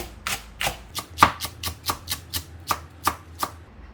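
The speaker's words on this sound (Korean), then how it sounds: "대파도 송송 썰어주세요." A knife chops green onion (daepa) in rapid, steady strokes on a cutting board, about a dozen crisp, close taps spaced evenly across the clip with no talking, while spicy soft tofu stew is being prepared.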